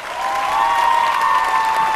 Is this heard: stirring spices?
no